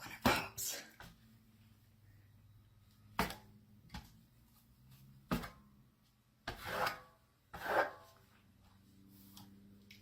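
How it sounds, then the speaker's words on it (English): A trowel spreads Venetian plaster over a stencil in a handful of short, close scraping rubs, each separated by quiet pauses. "You can run your trowel through it like this if you like to, and just kind of go and make different motions."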